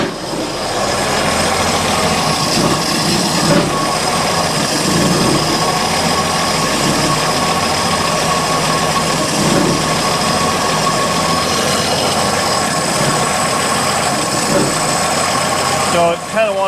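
Engine idling unevenly and close by, stumbling and close to stalling while running over-rich with too much fuel during a rebuild. The rumble holds steady throughout with slight surges, and a voice speaks over it.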